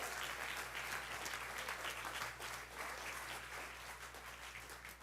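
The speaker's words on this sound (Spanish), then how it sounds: "Dale palmas al Señor" A church congregation claps together in steady, dense applause that holds at an even level for several seconds, with a low hum underneath and no clear speech.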